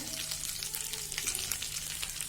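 Bay leaves and cumin sizzle in hot oil, a steady, close hiss broken by small crackles, with no voices.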